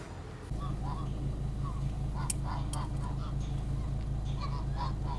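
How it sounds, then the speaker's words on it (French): A colony of geese honks near a waterfall at Kurşunlu in Antalya, with several overlapping calls scattered over a loud, steady rush of water, the birds somewhat distant and partly masked. "Une colonie d'oies."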